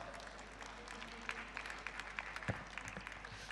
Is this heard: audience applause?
yes